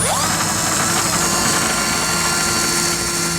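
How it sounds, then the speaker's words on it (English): A power drill fitted with a 1/2 inch bit enlarges a hole while fitting a tow base plate to a 2015 Chevrolet, whining loud and steady at close range without pause and with no voices. "I'm going to come back with a 1/2 inch drill bit and enlarge this hole to the final size"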